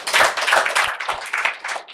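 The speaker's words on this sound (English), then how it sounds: "clap for him." An audience claps for a small boy after a memory demonstration, a short burst of brisk, fairly close handclaps lasting about two seconds.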